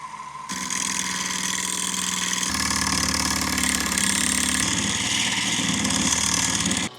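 An old original motor in a camper van runs steadily and loudly, with a rough, buzzing whine that shifts pitch slightly partway through before cutting off.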